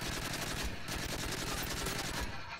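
Dense automatic gunfire from MW3 Survival mode in a chaotic round, loud rapid bursts of rifle and machine-gun shots rattling continuously with no pause.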